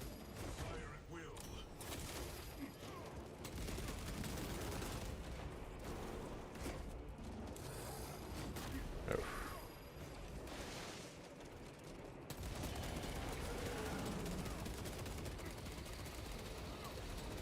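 Continuous dense gunfire and explosions from the video game Space Marine 2, heavy and unbroken, with a louder burst near the middle and game audio filling the whole stretch.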